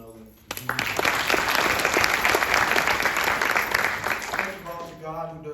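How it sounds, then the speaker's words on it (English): An audience at the Recognizing Fayette 2025 ceremony breaks into sudden, loud applause that holds steady for about four seconds before fading, as a voice begins speaking at the end. "Can we give another round of applause to Ms. Butler and Mr. Nolan?"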